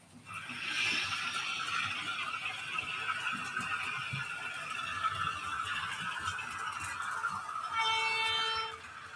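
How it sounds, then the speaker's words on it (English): Class 31 diesel locomotive passes with a sustained engine roar and rumble, close and fairly loud, swelling and then easing, with a brief higher tonal burst near the end. "The Class 31 will sound like this"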